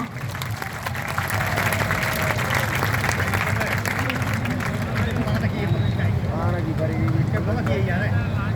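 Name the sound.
applause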